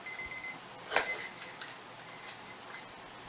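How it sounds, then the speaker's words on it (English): A kitchen timer beeps in short high-pitched electronic chirps, a few spaced bursts, fairly quiet against a faint background hum. "Yeah, there's my timer."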